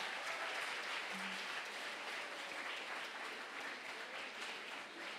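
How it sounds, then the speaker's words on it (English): A round of applause for school debate participants fills the room, a dense, even wash of clapping from a crowd that holds steady throughout at moderate volume. "let's give a big round of applause for all the participants"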